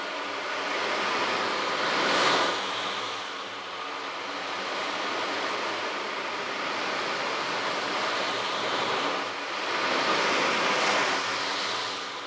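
Quick tilting of an ocean drum sends its beads rushing across the head in surging, crashing waves of hiss, with a few distinct louder swells separated by quieter rolling stretches.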